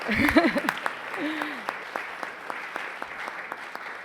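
An audience claps steadily at a book launch on addiction studies, the sparse, even claps continuing after a short spoken phrase at the start.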